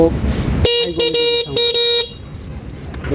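A Shadow Rabbit electric scooter horn beeps loudly several times in a choppy burst of short honks, then stops, leaving faint background noise.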